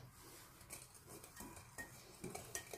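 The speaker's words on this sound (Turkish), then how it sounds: "Şimdi bunu çırpacağım." Milk mixture for a roll cake batter is whisked in a bowl, with soft scraping and clinking strokes of the whisk, quiet and close over about three seconds.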